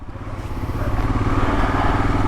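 A Royal Enfield Himalayan motorcycle engine rumbles loudly and steadily as it rides, with a low throbbing pulse and rising intensity, no voices.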